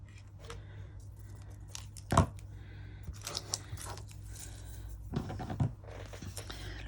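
Paper for a junk journal is trimmed with scissors in a few quiet, close snips and rustles, spaced irregularly with short pauses between cuts.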